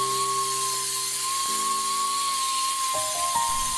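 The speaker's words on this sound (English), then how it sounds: "It's faster to use a sander." A power sander works over a filled wall, giving a steady high whine that holds level for the whole stretch, close and loud with no talk.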